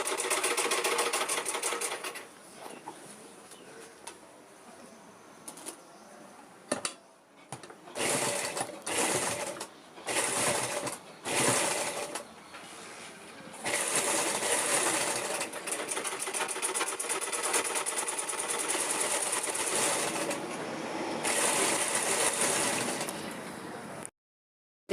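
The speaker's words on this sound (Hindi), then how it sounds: "यहाँ पे मैंने सिलाई लगा ली है" A sewing machine stitches fabric for a dress, first in short choppy runs with pauses, then in a long, fast, continuous run that sounds close and fairly loud.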